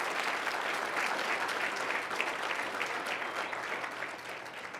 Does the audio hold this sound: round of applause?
yes